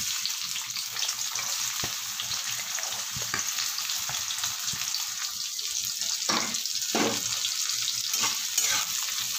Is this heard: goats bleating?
no